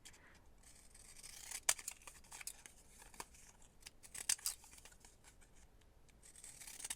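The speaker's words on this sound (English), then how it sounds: "I'm gonna grab my decollage scissors, my Fiskars ones, because they're amazing and they actually work." Fiskars decollage scissors cut through paper for a junk journal, producing quiet, close snipping and crisp slicing sounds with a couple of sharper clicks, without any talking.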